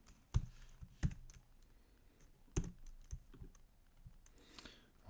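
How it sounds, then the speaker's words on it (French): A computer keyboard being typed on in short, irregular clusters of sharp clicks, a few louder isolated keystrokes standing out, close and clear with no talking. "si je me mets dans ma page et que j'appuie sur une touche de mon clavier"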